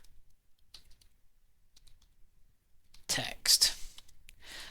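Computer keyboard keys tapped while entering code, sparse faint clicks early and then a louder close burst of keystrokes near the end.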